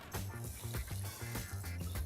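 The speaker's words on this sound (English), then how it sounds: "Once this is evenly mixed, I'm going to add in some water." Water is poured into a hot cooking pan holding a frying mixture of onions, tomatoes and cashews, giving a brief close splash and bubbling hiss with a pulsing rhythm.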